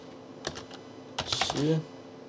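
Short bursts of clicky computer keyboard typing while writing HTML for a web page, a few quick taps followed by a faster cluster of keystrokes, close and crisp, with a brief voice sound near the end.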